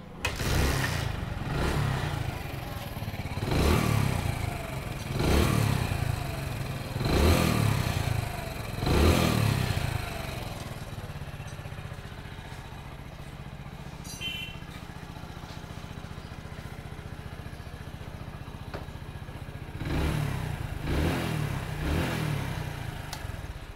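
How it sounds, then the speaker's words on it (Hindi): A 100cc Hero motorcycle engine runs close by after a rebuild, revved in several rhythmic bursts, then idles steadily before revving again near the end. "अब बाइक को फाइनल स्टार्ट करके आप लोगों को दिखाता हूँ"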